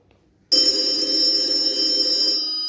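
A telephone rings loudly and steadily after a short quiet start, a continuous electronic ringing tone in a staged children's New Year play, with no talk over it.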